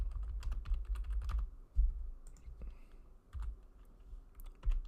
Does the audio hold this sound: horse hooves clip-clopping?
no